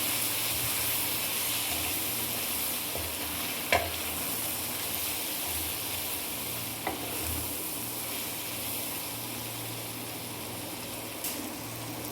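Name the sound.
onions being sautéed with salt in a pan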